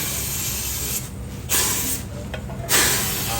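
A can of aerosol flushing spray, used to clean a very dirty system, hisses loudly and continuously up close, with two brief surges of stronger spray.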